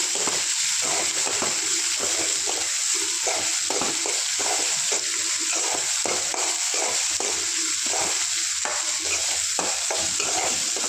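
Onions sautéing with a little salt in a pan for potato kurma, a continuous bright sizzle broken by repeated scraping stirs, close and steady with no voices.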